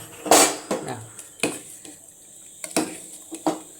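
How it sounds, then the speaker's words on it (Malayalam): A pot of soya chunk curry is stirred with a metal spoon, giving a handful of sharp clinks and scrapes against the pot at an irregular rhythm, close and fairly loud, with no talking. "ഇത് ഒന്ന് ഇളക്കിയെടുക്കാം കേട്ടോ"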